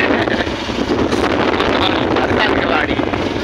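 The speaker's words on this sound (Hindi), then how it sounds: "बहुत मस्त हवा चल रही" Strong wind buffets an outdoor microphone in a town street, a loud continuous roaring gust noise that fills the whole moment with rumbling turbulence.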